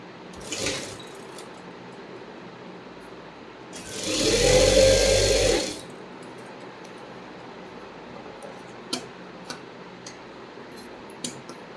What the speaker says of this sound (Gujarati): પછી દાબ સિલાઈ મારી દેવાની